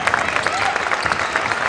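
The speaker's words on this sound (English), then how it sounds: "North Quincy parents are getting up and cheering on the girls as the clock runs down here" Parents in the stands cheering and clapping at a North Quincy girls high school basketball game as the clock winds down, a dense, loud crowd roar with commentary over it.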